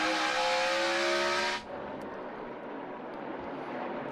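NASCAR race cars at the 2018 STP 500 roar past loudly with high-pitched engine whine, then cut off abruptly to a quieter trackside rumble and crowd wash that lingers for several seconds.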